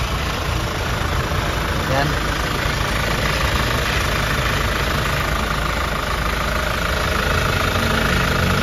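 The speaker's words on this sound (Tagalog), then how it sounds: "pinaandar na natin mga kayabe yung makina" The engine of a Hyundai Grand Starex van idles steadily with a loud, close, continuous rumble and a knocking texture, while someone briefly speaks over it.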